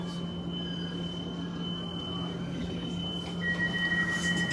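Driverless, computer-run metro train at a station, a steady low hum and rumble with a thin high tone and a rising whine toward the end; faint voices underneath.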